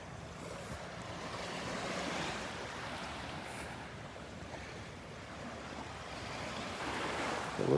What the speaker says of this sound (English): Oh, here comes a wave.